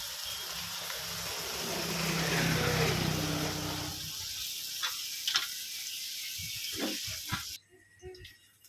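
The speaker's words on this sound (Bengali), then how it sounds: "এবার আমি একটা করে ছোট ছোট বেগুনিগুলো ভেজে নেব" Small beguni, eggplant fritters, fry in hot oil with a steady hiss and sizzle that swells and then fades, followed by a few light clinks and taps near the end.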